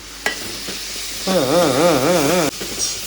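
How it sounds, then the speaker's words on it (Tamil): Onions fry in a pan on a home stove, a steady close sizzle with stirring scrapes, briefly overlaid by a wavering tonal whine. "அடுப்பில் இருந்தா வெங்காயத்தை போட்டு வறுத்திக்கிட்டு இருக்கோம்"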